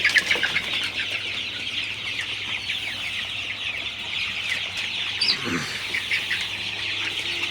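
A crowd of chickens in a poultry shed clucks and chirps continuously at close range, with occasional wing flapping and a steady low hum beneath.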